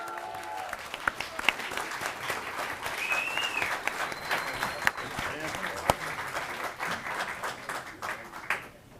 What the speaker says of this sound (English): IT guy gets that much applause.